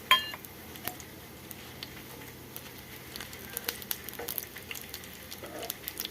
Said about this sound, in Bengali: তো প্রথমে তেলে আমি কালো জিরে আর শুকনো লঙ্কাটা দিয়ে দেবো।